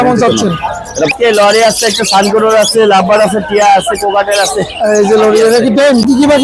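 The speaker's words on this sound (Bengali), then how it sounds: "কি পাখি এটা টিয়া পাখি ভাই টিয়া পাখি" A parrot calls amid the bustle of the Sunday bird market in Tongi, its squawks and chirps mixed into close, loud, continuous human voices talking over it.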